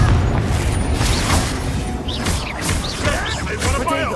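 Confringo spell explosions in the game Hogwarts Legacy, a dense series of booming blasts and crashes layered with whooshing effects, loud and near throughout, with some vocal sounds mixed in.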